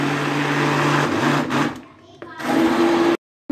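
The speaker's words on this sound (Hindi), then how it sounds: "अब इसे ब्लेंड कर रहे हैं, बहुत अच्छे से ब्लेंड करना है ठंडा होने के बाद।" An electric blender whirs loudly, churning cooled milk for kheer, then pauses and restarts with a steady motor hum before cutting off abruptly.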